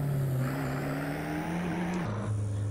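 Seat Leon 1.9 TDI diesel engine in Assetto Corsa, a steady droning hum climbing slowly in pitch under acceleration, then dropping abruptly near the end as if shifting gear, loud and continuous with no voices.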